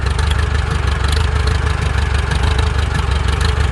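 A small engine fitted with a new, poorly adjusted Chinese carburetor idles loudly and close up, a steady throbbing run with a slightly rough, uneven note throughout.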